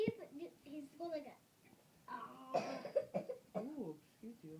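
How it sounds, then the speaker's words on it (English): Several real coughs from children during a burp and cough contest, short harsh bursts scattered through the stretch, mixed with kids' voices talking and reacting close to the microphone. "That's our real coughs"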